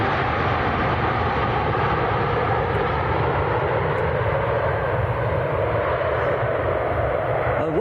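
An Airbus A320 airliner at Manchester Airport gives a steady, broadband engine roar that holds close and loud for the whole stretch, with no talk over it.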